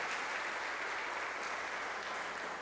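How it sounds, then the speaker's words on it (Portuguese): A church congregation applauding during a worship service, a steady wash of many hands clapping together throughout, moderately distant and without talk over it. "Vamos aplaudir o Senhor?"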